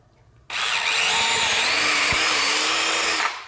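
A power drill bores a hole through a custom battery charger case, spinning up abruptly and holding a loud, steady whine for about three seconds before cutting off.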